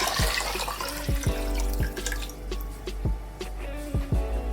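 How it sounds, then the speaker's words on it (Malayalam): Water poured into a pot of rice for beef biryani, with a run of close, distinct drips and splashes spaced unevenly over a low steady background. "നമുക്ക് ആ വെള്ളം ഒഴിച്ചു കൊടുക്കാം"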